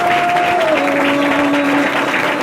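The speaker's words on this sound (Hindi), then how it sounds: "एक बार जोरदार ताली बजा" Church congregation applauding during a worship service, a steady dense wash of clapping that fills the whole stretch, with a sustained sung or instrumental tone running beneath it.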